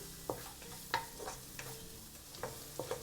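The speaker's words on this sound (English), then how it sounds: "4 cloves of garlic chopped, fry until fragrant." Chopped garlic frying in a pan, a soft steady sizzle broken by several light clicks and taps of a spatula stirring, close but quiet, with no speech.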